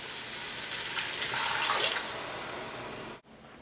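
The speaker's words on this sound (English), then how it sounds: "we're going to add 3 cups of vegetable broths" Vegetable broth is poured into a pot of minestrone soup in a home kitchen, a steady liquid splash lasting about three seconds that swells slightly then stops abruptly, heard alone without talk.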